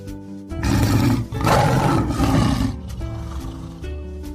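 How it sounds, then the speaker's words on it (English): A loud, deep lion roar echoes out of a cave, two long swelling bursts followed by a quieter rumbling tail that fades away. "One day, he heard a loud roar coming from a cave."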